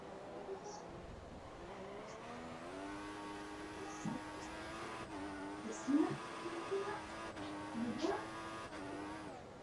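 A Formula 1 car in the racing video game F1 2014 accelerates around the Sepang circuit, its high engine whine climbing in pitch through several gear changes, with someone commentating over it throughout.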